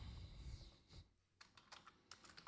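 Keys on a computer keyboard clatter quietly in short bursts of quick taps with brief pauses, close by and alone.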